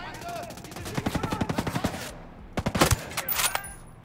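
Rapid gunfire in the tactical shooter Ghost Recon Breakpoint: a fast, evenly spaced burst of about fifteen sharp shots, a short pause, then a few more quick cracks, loud and close with no talking.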